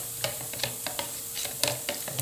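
Condensed milk is stirred in a pan for a simple dessert, producing soft, regular scraping strokes of a utensil over a low, continuous sizzle.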